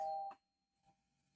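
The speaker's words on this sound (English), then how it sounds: "Got somebody ringing my doorbell" A home doorbell chimes once, loud and close, with a ringing tone that fades within a split second, followed by near silence and a faint rustle.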